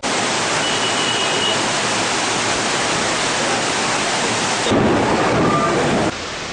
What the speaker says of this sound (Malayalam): ഇടിയുടെ അകമ്പടിയോടെ പെയ്ത മഴ കടുത്ത ചൂടിന് ഏറെ ആശ്വാസമായി.